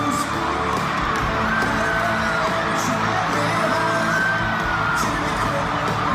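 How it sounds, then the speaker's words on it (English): A concert crowd at a show cheers in a steady, dense roar, with distant whoops and yells blending into a continuous wall of noise throughout. "Crowd apparently enjoying it."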